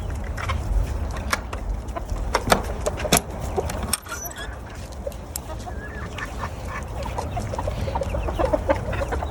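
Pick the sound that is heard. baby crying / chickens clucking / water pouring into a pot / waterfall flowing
chickens clucking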